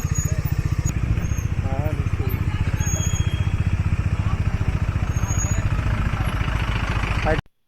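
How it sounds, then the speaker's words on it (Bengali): A motorcycle idles nearby on a mountain trip toward Darjeeling, its engine thumping in a steady, rapid, even pulse until it cuts off abruptly at the end, with a voice heard over it. "এই যে আমরা বাইক নিয়ে এসেছি।"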